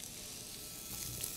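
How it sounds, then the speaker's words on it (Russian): Quarter of a large onion and a big garlic clove frying in a pan over high heat, giving a steady, moderately close sizzle that swells slightly near the end, with no talking. "Начнем жарить на большом огне"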